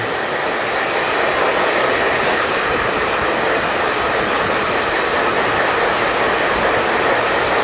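A hair dryer blasts steadily at close range for the whole stretch, blow-drying long, fairly straight hair during a layered haircut, a loud continuous whoosh with no voices.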